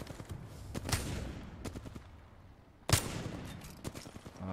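Grenade in the video game Apex Legends, two sharp explosive bursts a couple of seconds apart amid faint gunfire and movement, the second blast nearer and louder.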